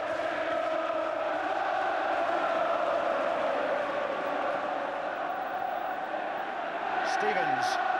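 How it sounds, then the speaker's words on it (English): The Old Trafford football crowd, at a 1984/85 match involving Everton, makes a distant, sustained roar of massed voices that swells gently, with a commentator's voice faintly audible over it. "listen now to the Old Trafford crowd"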